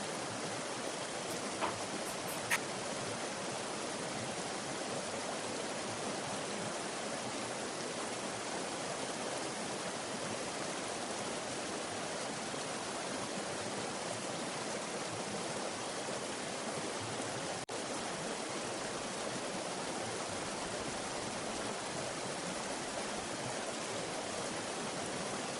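Steady, loud rush of water pouring over the fish hatchery weir on the American River, a continuous broadband roar with no pauses and no voices.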